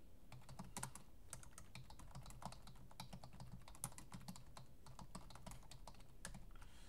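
Rapid clicking of keys on a computer keyboard, steady and close, with quick irregular taps and no talking.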